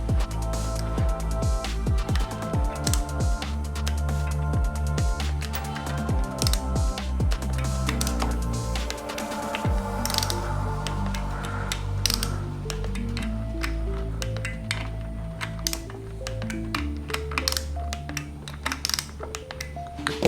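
Torque wrench tightening side-case bolts on a Yamaha Raptor 700R engine to 71 inch-pounds, a dense run of close metallic clicks and ratcheting ticks over a steady mechanical background, with no talking.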